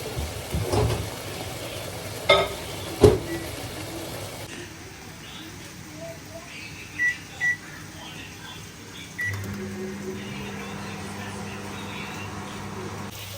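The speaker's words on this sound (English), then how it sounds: "I'm going to put my peas in the microwave for 2 minutes to cook." A microwave oven hums steadily at a low pitch while heating peas for two minutes, with a few faint beeps and clicks before it starts and some quiet background noise.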